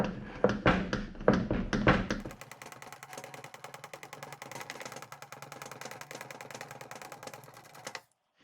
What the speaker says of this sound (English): I've cleaned out my Tom Thumb pump. I've got half a bottle of hydraulic oil in there. Pump in and hope for the best.